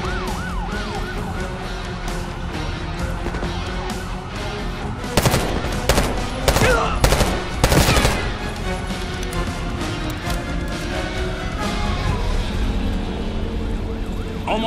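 Gunfire in Call of Duty: Black Ops 6, with several loud, dense bursts of automatic fire in the middle, set over constant police sirens wailing in the background.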